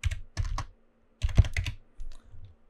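A few short bursts of keystrokes on a computer keyboard as a number is entered in After Effects, close and clear, with quiet gaps between the clusters and no speech.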